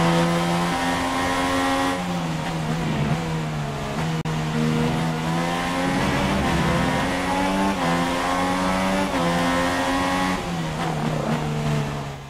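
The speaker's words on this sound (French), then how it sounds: "Et ça bloque les roues pour Van Dorn" A Formula 1 race car in F1 2016 howls at high revs, its engine note dropping in stepped downshifts as the wheels lock under hard braking, loud and continuous with no talk over it.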